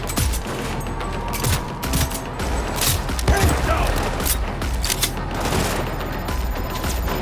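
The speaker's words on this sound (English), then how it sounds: "Firing at close range." Close-range gunfire in the video game Cyberpunk 2077 fills a busy mix of rapid shots, bangs and mechanical clatter, with game voices and effects layered throughout.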